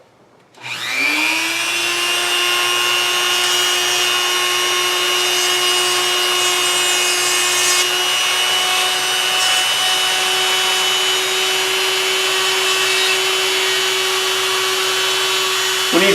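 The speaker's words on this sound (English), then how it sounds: "so on with the Dremel" A Dremel rotary tool whines at high speed while cutting on a Dinky Toy DS 19 model during restoration, a loud sustained steady drone starting abruptly after a second of quiet and running unbroken.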